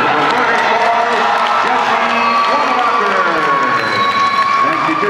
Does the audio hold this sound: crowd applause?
yes